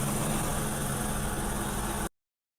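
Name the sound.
car engine revving to raise pressure, snowy Switzerland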